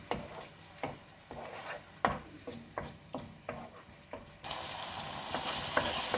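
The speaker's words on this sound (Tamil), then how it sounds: "இந்த டொமேட்டோ பூரி நல்லா வதக்கிக்குங்க, இல்லைன்னா அந்த பச்சை வாசம் அடிக்கும்." Tomato puree sautés in a pan for a tomato rice dish, with rhythmic scraping stirs about every half second over a low hiss that swells into a loud, steady sizzle. No one speaks.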